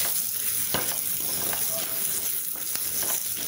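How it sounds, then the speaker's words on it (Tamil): Masala spices such as chilies and coriander are roasted in a pan for fish kulambu, making a steady, close sizzle and crackle with occasional scraping stirs, without talking. "போட்டு மசாலா கருகாமல் நம்ம வறுக்கணும்."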